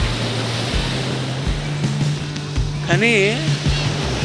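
Surf washing onto a beach in Chennai makes a steady broadband roar that runs the whole time, with a voice speaking over it.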